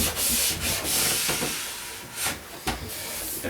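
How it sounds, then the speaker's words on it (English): Sandpaper or a stone rubs burrs off an alpine ski's steel edge in long, close, gritty strokes, a loud continuous hiss with a few sharper scrapes. "look for and feel for any burrs, and we'll sand them out before we go any further"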